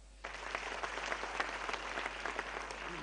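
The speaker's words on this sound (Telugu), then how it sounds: "చప్పట్లే చప్పట్లు" Steady, dense applause from a large audience of students at an event with Prime Minister Narendra Modi. It starts abruptly after a brief quiet moment and continues without pause.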